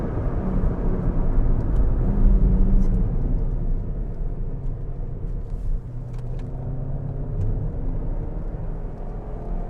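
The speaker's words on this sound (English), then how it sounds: "I mean, even things like heel and toe, here we go." A Ford Fiesta ST mk7 engine through a heel-and-toe downshift, heard as a loud, steady low rumble from inside the car with gentle swells in revs and no talking.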